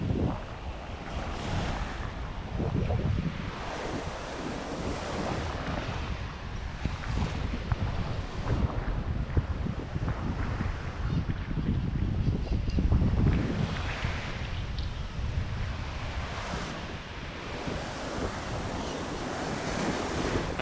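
Steady wind buffets the microphone at El Postiguet Beach in Alicante, Spain, mixing with rolling surf in a continuous loud roar and gusty rumble throughout, with no voices.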